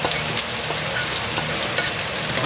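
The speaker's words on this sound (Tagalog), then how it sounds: "Gisahin lang natin, sutihin yung ating bawang, sibuyas at luya." Garlic, onion and ginger sautéing in a pan, a dense, even hiss of frying with faint stirring scrapes underneath, close and fairly loud, with no voices.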